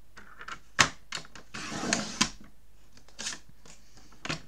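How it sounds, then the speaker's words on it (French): A paper trimmer works an A4 sheet close and quiet, with scattered sharp clicks and knocks, a longer rasping slide of the blade through paper in the middle, then more light taps and shuffling. "on va venir découper sur la longueur des 21 que l'on plaque sur le massicot en haut"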